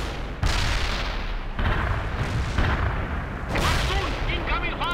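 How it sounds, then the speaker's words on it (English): Artillery fire in the World in Conflict video game: several heavy booming impacts land in succession, loud and rumbling, each followed by a sustained roar of blast noise. "Incoming fire!"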